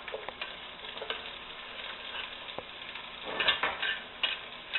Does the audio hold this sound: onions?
yes